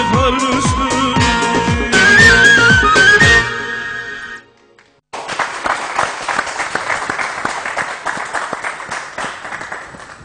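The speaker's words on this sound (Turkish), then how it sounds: "o güzel alkışlarınıza çok çok teşekkür ederiz" An audience applauds after a Turkish folk song performance, broadband clapping that follows a stretch of music, stops briefly and then resumes as a sustained, fairly loud wash of hands.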